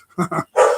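Pit bull dogs bark downstairs indoors: two quick muffled barks, then a louder, longer bark.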